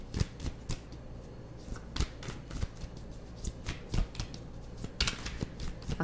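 A tarot card deck is shuffled and cut by hand, giving a quick run of close, crisp riffling flutters and soft card slaps that keep an uneven rhythm, with no talking.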